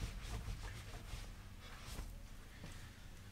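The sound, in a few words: wiping excess polish off plastic trim with microfiber cloth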